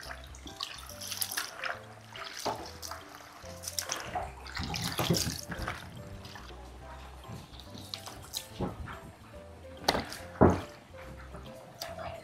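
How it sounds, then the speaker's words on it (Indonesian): Cut food for peyek being rinsed in a bowl of water, with steady splashing, running water and a few sharper clattering knocks, fairly quiet, with little talk. "Ini kita cuci lagi ya teman-teman."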